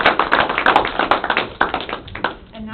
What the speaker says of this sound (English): If we could just give a round of applause